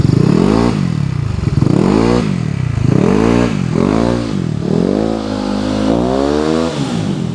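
Motorcycle with a broken, crushed drive face, revved up close in repeated surges, each swell of engine pitch carrying a loud metallic rattle and clatter throughout.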